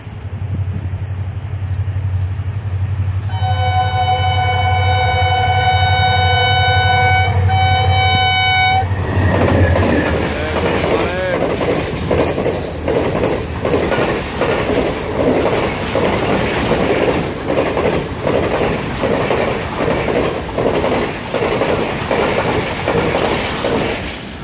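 A Pakistan Railways HGMU 30 diesel locomotive hauling a passenger train sounds a long steady horn, then passes close with loud rhythmic clatter of coaches rolling over rail joints.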